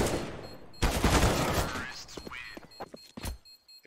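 Gunfire from a Counter-Strike match on Faceit, a loud burst of rapid shots followed by a few sharper single cracks, with the players' voices also heard.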